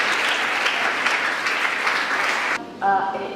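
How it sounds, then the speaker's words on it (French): An indoor audience at a book festival event claps steadily for nearly three seconds, a dense, even patter. The applause breaks off abruptly and a voice begins speaking. "Applaudissez pour nous."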